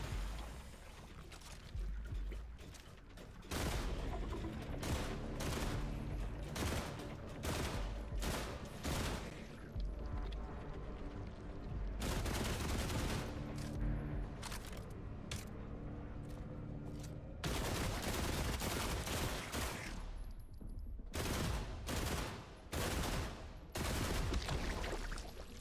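Gunfire from hostile robots in the video game The Last Caretaker: repeated loud bursts of rapid shots, broken by short pauses, with dense volleys and no talk over them.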